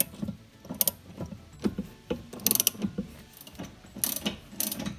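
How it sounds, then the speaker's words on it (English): A 1/2-inch ratchet turns a suspension bolt on an Audi/Volkswagen. It gives off irregular bursts of rapid, close clicking with short pauses between strokes, alone and fairly quiet. "we've got a 1/2-inch breaker bar and a 1/2-inch ratchet on the other side"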